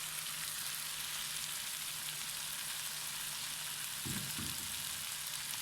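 Arbi (taro root) and potato frying in a pan with fresh green coriander, a steady soft sizzle throughout with a brief stirring scrape near the end.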